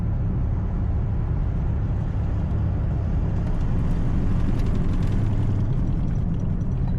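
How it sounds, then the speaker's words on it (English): A steady low rumble of a car in motion with faint scraping and a whirring, winding tone rising as the brakes are applied, with a shaking felt under braking, no voices. "I'm hearing a winding sound when I brake now."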